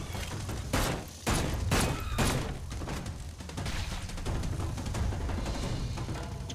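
Gunfire from light ammo in the Seeking Dawn video game: a rapid series of loud, sharp shots and volleys in the first seconds, followed by a dense, rumbling wash of combat noise.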